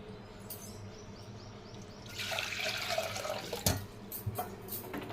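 Half a litre of water poured for multi-millet porridge (java) in a home kitchen, a steady splashing stream that swells louder midway, with a few brief clinks.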